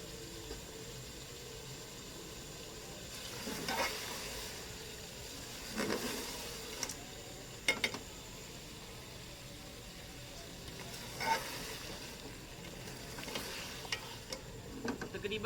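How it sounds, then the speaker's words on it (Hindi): A goat head cooking in a pot, with a low steady sizzle of frying and occasional scraping stirs of a spoon, faint and close, with no talking. "तकरीबन 8 से 10 मिनट तक हम इसकी बुनाई करेंगे"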